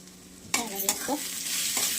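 Spinach with homemade black masala and salt is sautéed in a pan, with a few sharp stirring scrapes and clatters over a continuous hissing sizzle.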